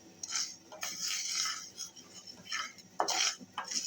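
A metal spoon stirs masala roasting in a pan over low flame, giving repeated scraping and clinking strokes in bursts, close and moderately loud, with no talk.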